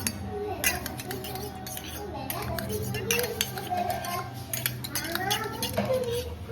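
Eggs cracked into a bowl and whisked with a utensil, bringing steady clinks and scraping of metal against the bowl, close and busy, with a voice speaking over the mixing.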